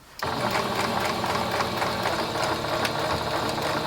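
A sewing machine stitches a seam on upcycled clothing in one steady, close, continuous whir with a fast mechanical rattle, running alone after a brief quiet start.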